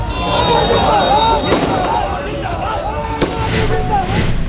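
Firecrackers crackle and pop at a street celebration in Raipur, sharp bursts scattered over a dense, noisy crowd din with talk throughout.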